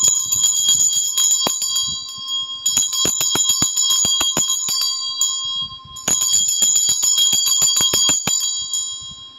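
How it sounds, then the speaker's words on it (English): A Tibetan bell rings in three long bursts of rapid, bright metallic strikes with a sustained shimmering tone between them, loud and close with no voices. "I-ring ko lang tong Tibetan bell, so pakihinaan na lang ang volume dahil medyo maingay po ito."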